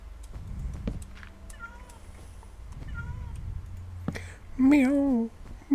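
A cat in the video game Minecraft meows once, loud and clear near the end, after quieter stretches of people talking.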